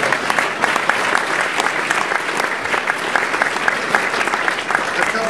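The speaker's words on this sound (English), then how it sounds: "Let's give Jamie Rubin a big round of applause." Dense, steady audience applause fills the room at a celebrity roast honoring Christiane Amanpour, a continuous wash of many hands clapping at even loudness throughout.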